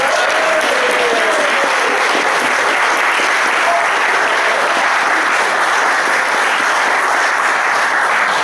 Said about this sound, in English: Let's give a big round of applause for Charles Coulombe.